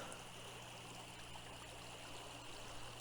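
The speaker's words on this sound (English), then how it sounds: "And the creek flows right through here." Creek water flows steadily as a continuous broadband wash with a faint low hum beneath, an even, unbroken trickle and rush with no talk.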